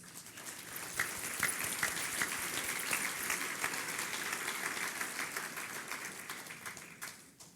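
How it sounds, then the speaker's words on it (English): Sustained applause from an audience at a mayor's business luncheon, a dense, even wash of many hands clapping that holds steady and then tapers off near the end. "Another round of applause for the developers and developments of the year,"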